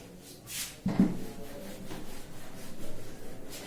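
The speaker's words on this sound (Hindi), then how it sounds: "एक मिनट इसको हम रब कर देंगे यहाँ पर" Cloth or duster rubbing on a board during a trigonometry lesson, a soft swishing scrape with a short sharper stroke near the start, then continuous low rubbing, alone without talk.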